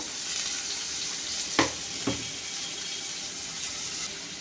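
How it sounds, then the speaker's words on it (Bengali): Garlic frying in a pan of hot oil for a Bengali egg chaat, a steady close sizzle with two sharp clinks of a spoon or spatula partway through; no talking. "রসুনটাও এখানে ভাজা ভাজা করে নেব"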